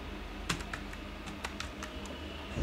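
Keystrokes on a computer keyboard while someone types search terms into a gig-listing field, a sparse run of light clicks at uneven intervals over a quiet background hum, with no talk.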